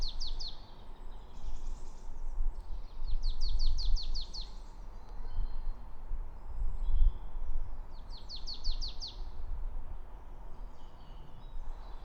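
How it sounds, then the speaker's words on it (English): A marsh tit sings in a forest, giving three short bursts of rapid, high, evenly spaced notes spread across several seconds over a steady low background hum. "I heard a marsh tit singing here."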